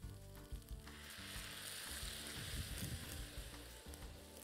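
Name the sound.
white wine sizzling in hot frying pan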